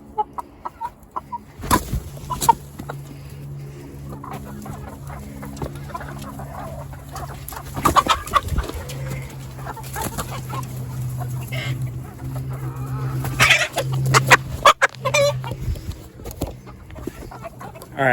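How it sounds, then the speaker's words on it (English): Chickens cluck repeatedly with occasional rooster calls in a farm coop, a steady layer of busy fowl noise that rises in bursts and carries on without talk. "there's a few more chicks that we need to grab"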